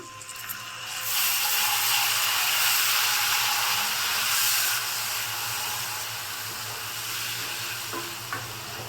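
Loud, steady sizzling and frying hiss as water is poured into hot frying masala for egg tikka masala, a sharp burst in the first second then settling into continuous bubbling.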